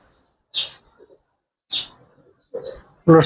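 A large adult male Benarasi kaldom pigeon coos in several short, separate bursts close by, with quiet gaps between them and a louder final call.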